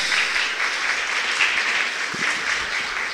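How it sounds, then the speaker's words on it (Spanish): Audience at a philosophy congress gives a steady, dense round of applause to welcome guests, continuous clapping filling the room for a few seconds. "démosles a ellos también un fuerte aplauso de bienvenida"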